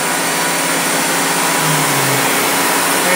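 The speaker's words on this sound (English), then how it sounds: "We're going to go ahead and turn the spindle off." A Shop Sabre 7214 CNC router spindle winds down after being switched off, a loud steady motor whine and hum with a low tone sinking in pitch midway.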